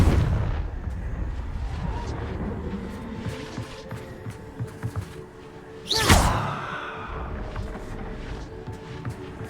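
Booming fiery blast of the Confringo curse in the game Hogwarts Legacy: a sharp explosive burst with a whooshing tail, set among ongoing combat rumbles and impacts.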